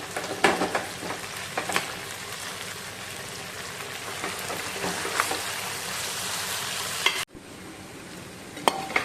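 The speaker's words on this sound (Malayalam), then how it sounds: "അപ്പോൾ അങ്ങനെ ബീഫ് ഫ്രൈ ആവാൻ തുടങ്ങാണ്" Beef frying in coconut oil gives a dense, rain-like sizzle with occasional sharp pops and utensil clinks, cutting off abruptly near the end before resuming faintly.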